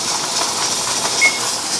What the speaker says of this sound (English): this jiggler rocks gently, I'm good. If it rocks too violently, you're losing too much steam from there